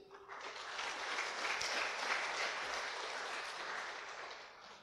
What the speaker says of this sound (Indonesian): tepuk tangan yang meriah untuk Tuhan Yesus